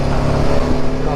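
Close, loud engine roar from a 2021 BMW G310R motorcycle revving under acceleration, a steady droning tone held for about a second with no break.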